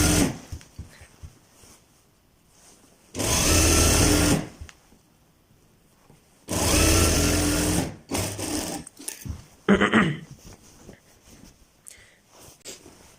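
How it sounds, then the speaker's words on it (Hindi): Sewing machine stitching salwar fabric runs in two loud, steady bursts of about a second each, with a shorter, fainter run after them and quiet pauses between. "अब हमने जैसे ऊपर से सिलाई स्टार्ट किया, बिल्कुल सेम तरीकाकार के तहत हम इसको भी मुकम्मल कर लेते हैं।"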